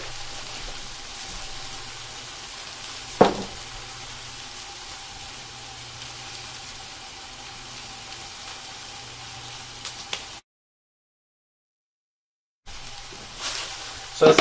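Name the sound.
hash browns frying in a hot pan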